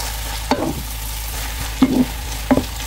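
A chicken pastillas mixture is stirred in a pan with three distinct scraping strokes, spaced about a second apart, over a constant low background hum.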